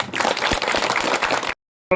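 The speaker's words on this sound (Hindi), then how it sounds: "इसलिए इन बच्चों के लिए भी जोरदार तालियां।" An outdoor audience gives the children at a village Ramlila prize-giving a loud round of applause, dense and continuous for about a second and a half before cutting off abruptly.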